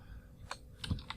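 Quiet typing on a computer keyboard, a few soft key clicks in a short burst with no talk.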